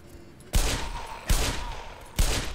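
Three loud gunshots ring out at roughly even intervals in the Black Mesa Xen video game, each a sharp close blast followed by a decaying echo tail.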